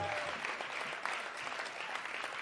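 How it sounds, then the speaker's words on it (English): Steady, dense applause from an awards show audience at Carnival City for the SAMA nominees, sustained and even throughout with no pauses. "big round of applause."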